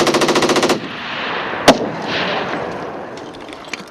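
A Marine Corps machine gun section firing on a desert range, a rapid burst of about a dozen shots, then one sharp crack and a lingering rumble with a few faint distant pops.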